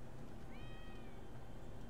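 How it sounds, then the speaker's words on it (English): A cat meows once in the GTA V video game, a single rising, slightly drawn-out call heard over a dense, steady background rumble inside a building. "Kitty cat."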